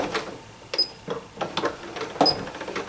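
Stitching on a denim purse strap comes in short, uneven machine bursts, several quick clicking runs starting and stopping close by against a quiet room.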